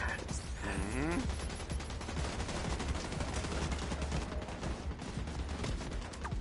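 Heavy gunfire in the Division 2 shooter game, dense rapid bursts of shotgun and automatic fire running continuously and loudly throughout amid chaotic combat noise.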